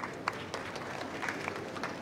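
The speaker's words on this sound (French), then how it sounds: "On peut l'applaudir." A small group claps briefly, with soft, sparse, scattered claps over a steady murmur of background noise.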